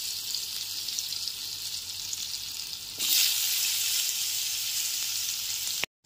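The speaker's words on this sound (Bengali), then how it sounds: "লবণ ও হলুদ মাখিয়ে আলুগুলোকে ভেজে নেব।" Halved potatoes coated in salt and turmeric fry in hot refined oil. A steady sizzle surges louder as they hit the pan and keeps going before cutting off abruptly at the end, with no talking.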